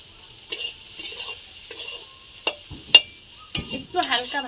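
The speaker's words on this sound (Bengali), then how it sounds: "একটু হালকা ভাজা ভাজা হলে তুলে।" Soybean chunks fry in a pan in a small home kitchen, giving a steady sizzle broken by several sharp scrapes and knocks of a stirring spoon, with a brief voice near the end.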